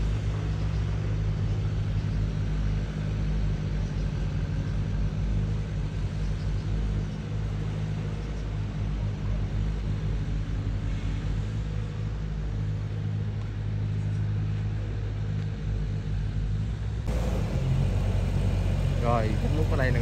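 A Kobelco SK07 long-reach excavator with an 18-metre arm digs soil on a large river, its heavy diesel engine droning in a steady low rumble that holds throughout, close and continuous.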